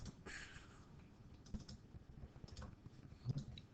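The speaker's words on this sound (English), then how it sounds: "it'll let me type" Quiet bursts of fingers tapping a computer keyboard, uneven clicks close up and faint, with no talking.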